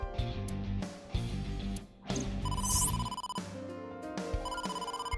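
Telephone ringing in the video game AI: The Somnium Files, a repeated electronic ring tone over a layer of game music, loud and steady across the clip with no talking.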